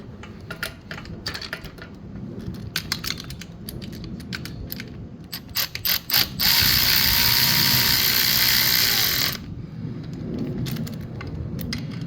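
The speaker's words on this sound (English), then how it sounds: "It's a 1/2-inch drive by the 1/2-inch socket." A 1/2-inch drive ratchet with socket working on the kickstand of a 2023 Honda Super Cub 125, giving quick runs of sharp clicking pawl ratchets, then a few seconds of loud steady hiss, close and clear.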